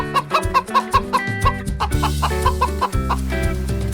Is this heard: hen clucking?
yes